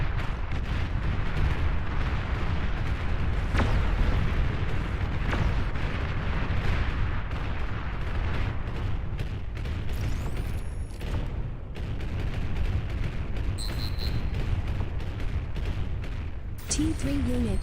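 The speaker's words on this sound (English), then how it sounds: "Meanwhile, we're just over here carpet bombing this shit." Dense, continuous rumble of carpet-bombing explosions in the Beyond All Reason strategy game, booms overlapping into a steady low roar with occasional sharper blasts and faint electronic game tones.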